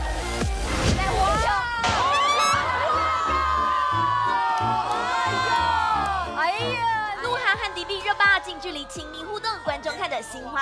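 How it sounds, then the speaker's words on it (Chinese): A studio audience screams and cheers in loud, high-pitched bursts, with whoops rising and falling over a game show, mixed with excited voices and shouting. "观众看得心花怒放，猛尖叫"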